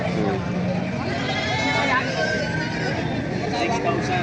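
Goats bleat repeatedly amid a noisy livestock pen at a Padre Garcia, Batangas goat market, their wavering cries overlapping with background chatter and crowd babble.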